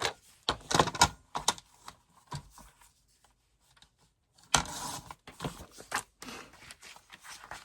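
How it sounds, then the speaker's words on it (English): Paper is trimmed for a handmade patriotic journal, heard as crisp cutting and rustling bursts up close, with a quiet pause between two busier stretches. "I'm going to trim this a little smaller"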